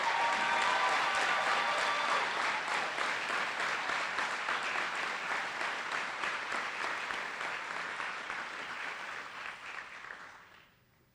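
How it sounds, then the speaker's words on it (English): A graduation audience applauds the class of 2017 at a summer school commencement: dense, sustained clapping from a large crowd, steady for several seconds before gradually thinning and fading out near the end. "Please give the class of 2017 applause for their hard work and commitment"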